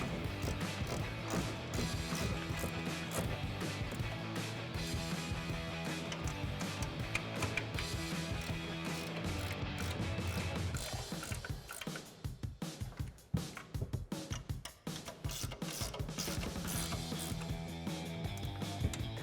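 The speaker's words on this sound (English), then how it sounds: "now we can grab our 15mm ratcheting wrench to tighten these down" A 15mm ratcheting wrench tightens nuts on a truck coil-over during a 2014-2018 Silverado 1500 Eibach Pro-Truck install, giving repeated clicking ratchet bursts with metallic clanks and pauses, fairly close.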